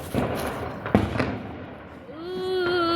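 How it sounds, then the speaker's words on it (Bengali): Fireworks burst all around during a celebration: several sharp bangs and thuds in the first second, followed by a rising, whistling trail at moderate distance. "চারিদিকে বোম ফাটছে,"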